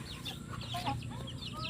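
Chickens cluck and chirp softly at a backyard feeding, a low murmur of fowl with overlapping short calls, faint and somewhat distant, no speech.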